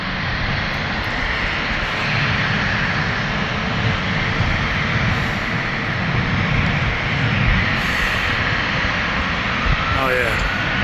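Planes of various sizes landing and taking off at a busy airport, a steady loud jet engine roar that holds for the whole stretch without a break.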